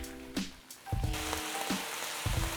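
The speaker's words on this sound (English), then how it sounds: "In a wok, add some oil, drop in the vegetables." Vegetables hitting hot oil in a wok, a soft hiss rising into a fuller sizzle, punctuated by several distinct clunks of a utensil against the pan, close by and with no talking.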